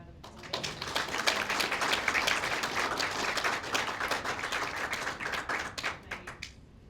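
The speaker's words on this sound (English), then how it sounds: "I think we should give them a round of applause" An audience at a survivorship forum bursts into sustained, dense applause, many hands clapping loudly for several seconds before it thins out and stops.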